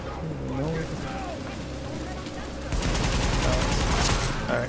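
Rapid automatic gunfire rattles in the video game The Division, loud and continuous, with a denser burst in the second half, over steady game ambience.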